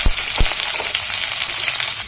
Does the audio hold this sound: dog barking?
no